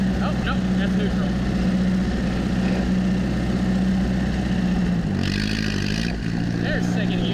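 A 1956 Massey-Ferguson 50 tractor engine chugging in gear across a bumpy pasture, a steady close low drone that dips briefly as the gear changes, with someone talking over it.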